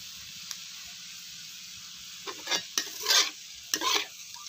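Pork pieces stir-fried in a pan for dinner, with scattered bursts of scraping and sizzling spatula strokes over a steady low hiss, heard up close without talk.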